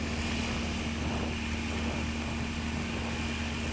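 A heavily modified Highlander Super STOL light aircraft at a Swamp STOL short takeoff and landing practice in Jennings, Louisiana, its propeller engine droning steadily and loudly throughout, with a constant engine tone and no talking.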